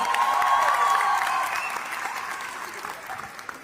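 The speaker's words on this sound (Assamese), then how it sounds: "হাত চাপৰি এবাৰ।" A crowd at a live comedy show at a Guwahati city centre mall breaks into loud, dense clapping that slowly fades over a few seconds.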